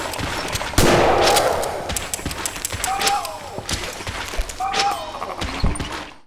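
Gunshots in the Gloomwood demo, several sharp sudden bangs spaced a second or two apart, each with a short ringing tail, amid game noise.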